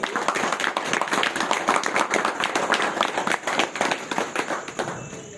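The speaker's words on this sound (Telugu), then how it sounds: "గట్టి చప్పట్లతోటి" An audience breaks into loud, sustained applause at a spiritual gathering, with dense overlapping claps that hold steady for several seconds before tapering slightly at the end.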